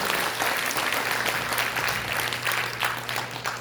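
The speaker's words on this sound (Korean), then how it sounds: "다시 한번 여러분들 박수 부탁드리겠습니다" Audience applause at a Korean political party launch event, steady dense clapping throughout at a fairly even level, with some faint voices underneath.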